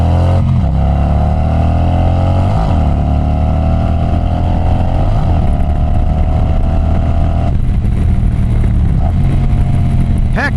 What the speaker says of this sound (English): Let's give it some gas here and see how well it handles.